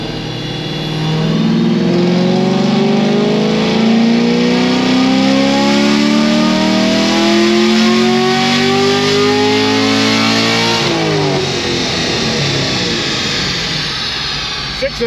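A 700 hp naturally aspirated LT1 Camaro on E45 fuel makes a loud, sustained dyno pull, its engine note climbing steadily in pitch for about ten seconds before abruptly dropping off as the throttle closes.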